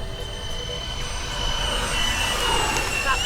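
FMS A-10 Warthog 1500mm RC jet with twin ducted-fan motors flying by slowly with flaps down, a whining jet-like rush swelling louder as it passes close, with a faint voice briefly heard.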